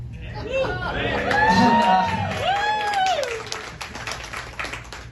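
Comedy club audience at Rick Bronson's House of Comedy breaking into cheering, whoops and scattered applause, with crowd babble and laughter-like voices swelling and then tapering off into lighter clapping.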